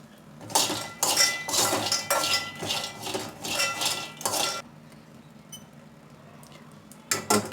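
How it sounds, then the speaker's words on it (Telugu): A metal utensil clinks and scrapes repeatedly against a pan as peanuts are dry-roasted for chutney, a rapid series of close, bright clatters that stops for a few seconds before a couple more strikes. "బాండి పెట్టేసుకొని అందులో పల్లీలు వేసుకొని వేయించుకుందాం"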